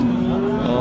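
A cow moos at the Chust cattle market in a single long, steady, low call that fills the moment, close and loud with no voices over it.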